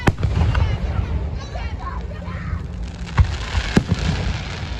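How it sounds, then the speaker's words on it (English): Fireworks bursting at a Juneteenth display, with loud sharp pops and booms standing out over a constant crowd murmur and nearby talk, one especially sharp crack near the middle. "There's some loud popping noises."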